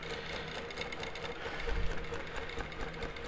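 A longarm quilting machine stitches an all-over meander pattern, its rapid needle chatter running as a steady, loud mechanical whir with a slight swell midway, heard alone.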